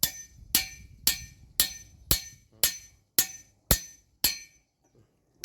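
A hammer drives a stake into the ground beside a rice field fitted with solar panels, about ten sharp, evenly spaced metallic strikes, loud and close, with no voices.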